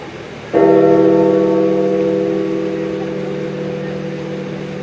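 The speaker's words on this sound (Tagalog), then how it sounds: "Ang tunog ng kampana ay hudyat" A church bell is struck once after a short silence, and its bright, humming tone rings loud and close, then slowly fades over several seconds.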